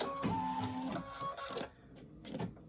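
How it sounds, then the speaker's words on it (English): A computerized embroidery machine stitches a placement line onto stabilizer with a quiet, steady mechanical whir and hum and brief pulsing changes in pace. "stitch the panel placement line directly onto the stabilizer"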